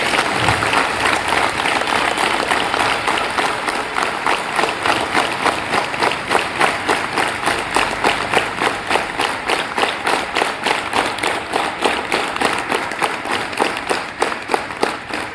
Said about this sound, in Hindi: वो एक बार वो स्वामी जी और उनकी टीम के लिए अपनी जोरदार तालियों से उनका धन्यवाद ज्ञापन करेंगे